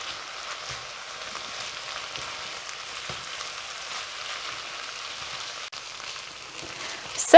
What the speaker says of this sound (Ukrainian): це ми смажимо до однорідної маси